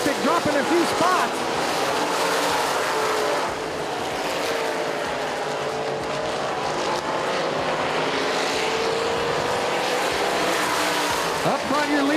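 Race cars roaring around the oval at Central Texas Speedway in a TALMS race, a loud continuous engine drone with passing cars rising and falling in pitch, under a commentator's voice.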